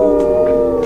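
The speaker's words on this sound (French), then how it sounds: "Le loup super loin." A wolf howl at a medieval festival show, a sustained tonal wail held steady and loud through the moment with no talk over it.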